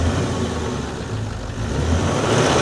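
A Cummins diesel engine in a Nissan Titan rumbles steadily, its low drone swelling gently toward the end as it is revved, close and continuous with no talk.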